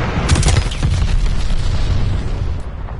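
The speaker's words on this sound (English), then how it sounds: "Bomb incoming!" A bomb blasts in the online shooter NYS Vanguard, a loud booming detonation with crackling debris that rolls on for a few seconds before tapering off.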